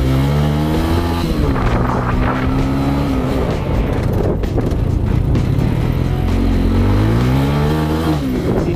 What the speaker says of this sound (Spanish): Sienten como el motor sube de una